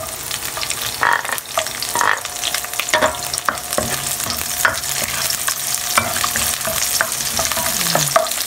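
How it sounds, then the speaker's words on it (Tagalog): Onion stir-frying in a pan, a steady close sizzle with repeated scraping and stirring clatter throughout, no voices. "Hintayin lang natin yung onion hanggang maging transparent."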